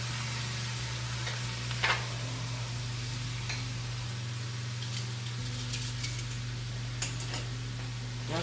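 Faint steady sizzle of small street taco tortillas heating on a pan, with scattered light ticks and taps over a low constant hum.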